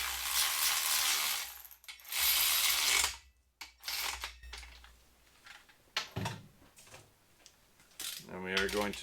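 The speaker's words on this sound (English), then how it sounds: "we are going to torque this back up" A hand ratchet clicks as it torques the main cap bolts on a Fox Body Mustang engine shortblock, in loud close bursts of rapid pawl ticking separated by brief pauses, with metallic tool clinks throughout.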